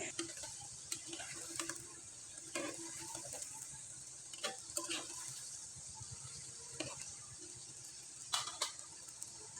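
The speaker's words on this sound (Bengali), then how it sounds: "এখন আমি তালের পিঠাগুলো তেলে ভেজে নিব" Palm fruit pitha frying in oil heated on high, a steady close sizzle broken by sharp clicks and taps of a spoon in the pan at irregular intervals.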